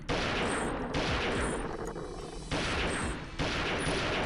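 Sustained automatic gunfire from the Skedar attack ship mission in the video game Perfect Dark, rapid, loud and close, coming in several dense bursts separated by short pauses, with no talking.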